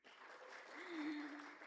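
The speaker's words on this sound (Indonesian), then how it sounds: "Tepuk tangan bersama." An audience of academics and officials applauds at a regional economic forum in eastern Indonesia, a soft, steady wash of clapping with a voice speaking faintly over it partway through.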